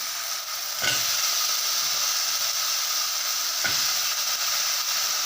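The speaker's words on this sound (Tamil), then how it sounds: "இப்போ காய் எல்லாத்தையும் எடுத்து போட்டுக்கலாம்" Vegetables drop into a hot pan for village-style prawn curry, setting off a steady loud sizzle with two sharp bursts as pieces hit the oil.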